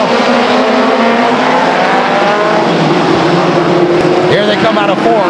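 Race cars roar steadily around the oval at Stockton 99 Speedway, a loud continuous engine drone with engine pitch sweeping up and down as cars pass, and a track announcer talking over it.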